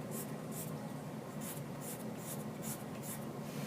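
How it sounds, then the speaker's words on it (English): A pencil scratches steady, rhythmic hatching strokes across paper as overlapping crisscross lines are drawn, each stroke a brisk rasp repeating about twice a second, close up with no speech. "I'll switch my pencil up and add more lines that cross over top"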